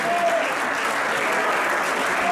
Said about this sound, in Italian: Vi prendete un meritato applauso per quello che state facendo?